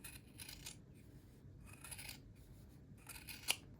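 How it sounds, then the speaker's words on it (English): Sewing scissors trim a fabric seam allowance on homemade skate covers, giving a few quiet, close snipping bursts separated by short pauses, with one sharp click near the end. "So you can trim this down a 1/4 inch here."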